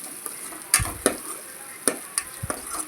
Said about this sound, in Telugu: పసుపు వేసుకొని బాగా మిక్స్ చేశాను